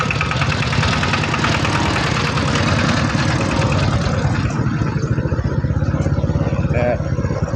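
A tractor engine idles close by in a rural village, making a loud, steady, chugging rumble with rapid, even pulses that continue without pause.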